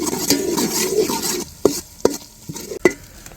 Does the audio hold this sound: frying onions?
yes